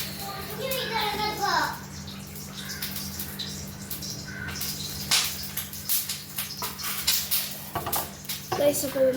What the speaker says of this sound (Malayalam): നമുക്ക് അരിയാം ഇഞ്ചി